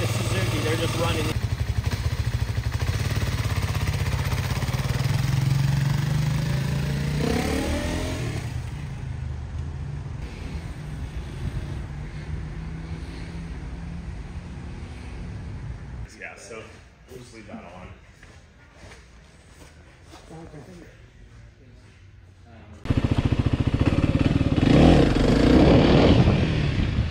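A fuel-injected Kawasaki KLX300SM motorcycle engine runs steadily at a dealership, a continuous moderate drone that eases off midway and then returns louder near the end.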